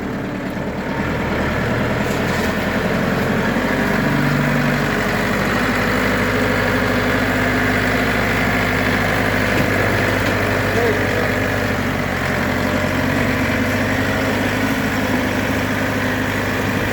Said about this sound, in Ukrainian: Класний потужний тракторець.